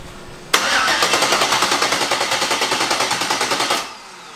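The LS V8 in a budget twin-turbo Chevrolet Malibu cranks loudly and close, with a steady rapid chugging rhythm for a little over three seconds before cutting off.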